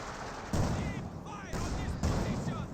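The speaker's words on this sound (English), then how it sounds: "Panzer IV gets a good shot there." Panzer IV tank gun firing in the Company of Heroes 2 video game: dense battle noise with a few heavy booming shots, around 0.5, 1.5 and 2 seconds, over continuous gunfire and rumble.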